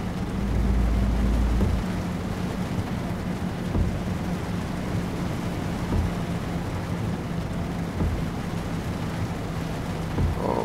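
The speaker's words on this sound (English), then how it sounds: "So horrible driving in the rain." Rain and thunder surround a truck driving in the Euro Truck Simulator 2 game: a continuous dull roar of rain and engine rumble, with a deep thunder boom near the start, steady and loud throughout.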